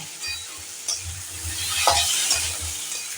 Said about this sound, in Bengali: পোস্ত ভাজতে বেশিক্ষণ সময় লাগে না অল্প সময়ের মধ্যেই আমাদের পোস্তটা ভাজা হয়ে যাবে